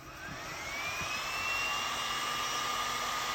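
A heat gun blows hot air onto a hose from an outdoor shower fitting, giving a steady, loud airy roar with a thin whine that rises in pitch and then holds. No one speaks.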